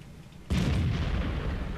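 A tank shell strikes the player's tank in World of Tanks, setting off a sudden loud, heavy boom that cuts in abruptly and then rumbles on steadily.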